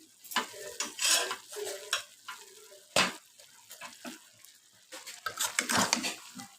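Mixed vegetables such as papaya, pumpkin, potato, carrot and eggplant are stir-fried in a pan, giving uneven scrapes and clatters of stirring over a soft sizzle, with a sharp knock near the middle.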